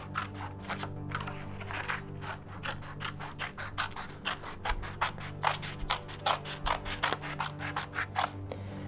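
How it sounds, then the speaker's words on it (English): Scissors cut paper in a series of quiet, rhythmic snips and rasping crunches, growing more distinct and regular toward the end, with no talking. "we're just going up and down with our scissors"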